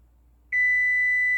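A kitchen timer sounds a single steady electronic beep, loud and close, after a moment of near silence while Royal Bibingka bakes at 375 degrees Fahrenheit.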